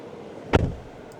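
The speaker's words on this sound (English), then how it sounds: "I'll pop the door open" An Omoda E5 car door opening, a single short unlatching clunk with a brief thud, close by and otherwise quiet.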